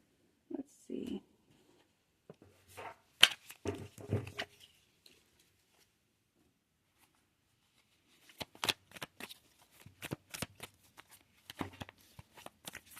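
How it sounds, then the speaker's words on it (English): Tarot cards being shuffled during a pick-a-card reading, with two bursts of soft riffling and tapping separated by a quiet pause, the second run longer and more rapid, close and fairly faint. "Maybe shuffle."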